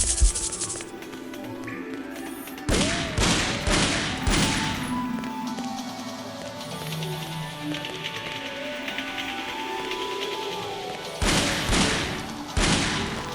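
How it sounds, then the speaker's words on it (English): Gunfire in the Shadow Man Remastered video game as a padlock is shot off: a cluster of sharp, loud bursts, then a quieter stretch of game ambience, and a second short cluster of blasts near the end. "A padlock. Maybe I could shoot it off."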